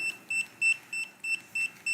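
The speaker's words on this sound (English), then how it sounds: "that beeping is basically saying there's an intruder in your freaking house" An active buzzer alarm wired to a microcontroller beeps in a steady series of about seven short, shrill, evenly spaced tones, loud and close with no voices.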